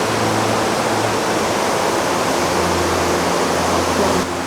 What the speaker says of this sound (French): cette cascade, elle envoie très très fort